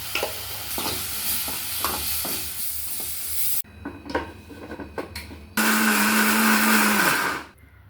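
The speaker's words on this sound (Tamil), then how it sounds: "வணக்கினதை அரைச்சிக்கலாங்க." Mixer grinder blitzes roasted masala for a potato and pea curry, running in loud whirring bursts with brief pauses and rattling, then a final steady high whine before it stops; no talk.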